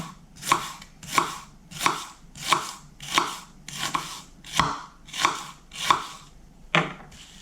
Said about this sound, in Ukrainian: Нарізаємо цибулю. Ось такими скибочками.